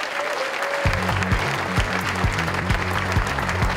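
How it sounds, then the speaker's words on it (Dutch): An award ceremony audience applauds for a sportswoman of the year, steady clapping from a crowd with some sharp individual claps standing out near the microphone. "ook een applaus hoort daarbij voor Demi"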